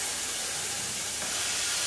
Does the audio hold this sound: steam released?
yes